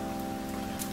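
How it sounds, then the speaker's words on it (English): Hail patters steadily against windows, a dense continuous tapping with a constant background hum and no voices during the moment. "it's hailing. Whoa. Yeah, it looks like little crystals landing on the windows"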